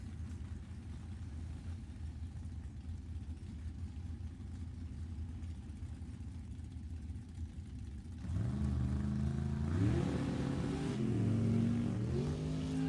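Drag race cars at an NHRA bracket event, a 1969 Ford Maverick and a 1958 Corvette C1, idle at a steady distant rumble before engines rev up and climb in pitch with rising, wavering tones, with no talk.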